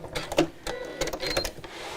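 A domestic sewing machine stitches in reverse, giving a short close mechanical whir with quick ticking needle strokes in brief bursts, and no voice over it.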